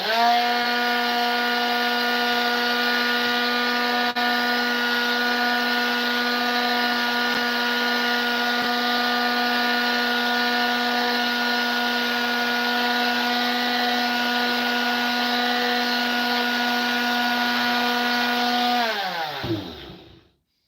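Power sander working on wood, a loud steady motor whine running continuously and close for about nineteen seconds before winding down and stopping at the end.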